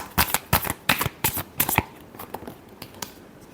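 Tarot cards are riffle-shuffled close by in a quick run of about eight crisp, fluttering bursts, then several softer shuffling rustles.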